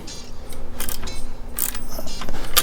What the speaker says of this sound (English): So what I'm gonna do is tighten up the 13 millimeter.